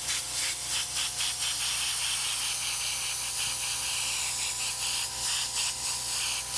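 An airbrush sprays paint onto a T-shirt, giving a continuous close airy hiss that swells in short, repeated pulses as the trigger is worked.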